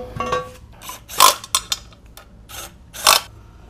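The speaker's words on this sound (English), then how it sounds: "oil pan back on" Metal clanks and scrapes from a steel oil pan being fitted back onto a 2004 MINI Cooper S R53 supercharged engine during a rebuild, a few sharp knocks and rattles with quiet pauses between.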